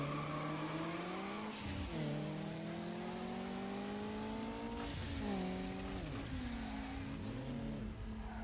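Racing car engine in the Need for Speed Underground video game, droning loudly and steadily, with its pitch sliding down several times as the handbrake pulls the revs down before they climb again.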